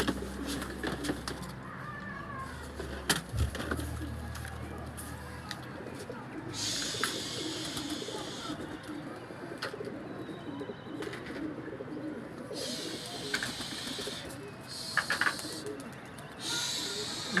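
Domestic pigeons coo in low, repeated burbles against steady outdoor hiss, with a few brief bird chirps and scattered background noise; no one speaks.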